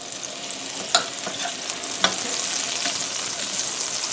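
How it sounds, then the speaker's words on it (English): A stick of butter melts in a pan with a touch of olive oil, giving a steady, dense sizzle with a couple of faint clinks and no talk. "just let this butter melt"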